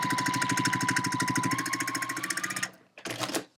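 A sewing machine runs a steady quarter-inch seam on a quilt block, a fast even whir of needle strokes for nearly three seconds, then a brief second burst after a short pause.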